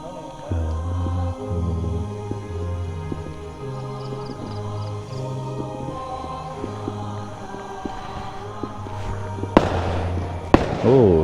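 Fireworks boom and crackle in the night during Merdeka Day celebrations, with repeated rolling explosions, a few sharper close bangs near the end, and a steady low hum beneath.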